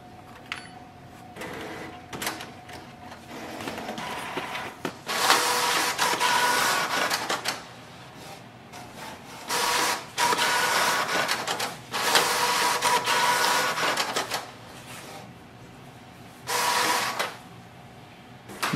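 A Canon Maxify GX5070 inkjet printer runs a print head alignment, its head carriage whirring in repeated bursts of a few seconds each, separated by quieter mechanical pauses, close and moderately loud.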